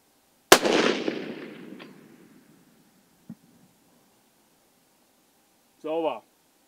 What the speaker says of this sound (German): ich gucke jetzt mal, wo der Schuss liegt